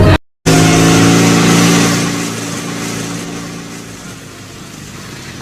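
Loud, close engine revving with a strong harmonic whine after a brief dropout, then the pitch and volume gradually fall away as it settles.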